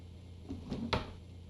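A drawer sliding open in a CD-ROM video game, one short soft scrape ending in a brighter knock, quiet and close against a faint steady hum.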